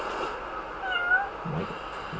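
A cat meows in the video game Lost Judgment, a single drawn-out, mid-pitched call rising and falling over steady background game ambience, followed by a shorter low murmur, with no talking.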